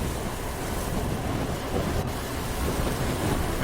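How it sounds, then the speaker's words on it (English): An acid storm spell in the video game Neverwinter Nights 2 makes a dense, steady hissing roar like heavy rain and wind, continuous and loud, with no voices. "And drop a acid storm on there"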